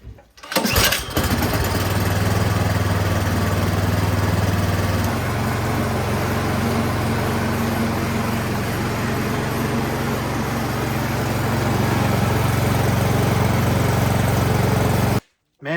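A Troy-Bilt snowblower's small gasoline engine catches after a brief rattle, then runs loud and steady at a constant idle for about fifteen seconds before abruptly cutting off, heard close up with no talking.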